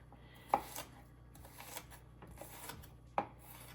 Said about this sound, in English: Chop up a little bit of onion.